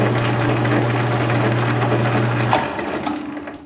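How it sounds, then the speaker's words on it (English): A metal lathe hums steadily with a constant motor whine as the carriage travels back after reversing, then the tone stops and light clicks and handling noises follow. "Reverse our lathe, catch that number on that black line again. Let the carriage travel back to the beginning."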